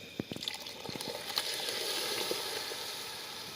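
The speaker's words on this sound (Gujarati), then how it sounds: "હવે આપણે આ દાળમાં આ તડકો મારી દઈએ" Hot tempering (tadka) hits a pot of Rajasthani dal for dal baati, starting with a few sharp crackles and pops before settling into a steady, fairly quiet sizzle.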